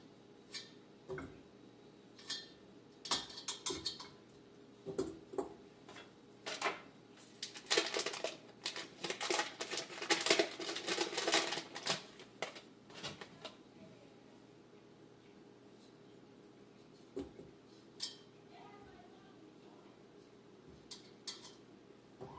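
A knife chops butter into rough cubes on a cutting board during home cookie baking, quick sharp taps coming in irregular bursts, densest in a rapid flurry midway, then a few scattered knocks.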